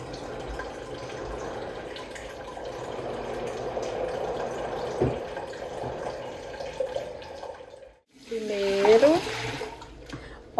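Chilled water runs steadily from an Electrolux Aqua Plus water purifier while five litres are drained, a continuous close hiss that stops briefly before a voice talks at the end.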